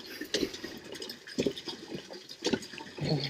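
Water gushing out of a primed pump after the pump was filled with almost two buckets of poured water, a bursty splashing flow in irregular surges, fairly close, with no talk.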